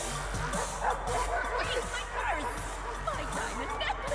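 Dogs bark and yip in an animated series episode, a rapid cluster of overlapping yaps and whimpers running continuously beneath murmured background voices.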